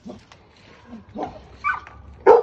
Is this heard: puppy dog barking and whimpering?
yes